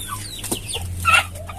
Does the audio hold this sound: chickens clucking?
yes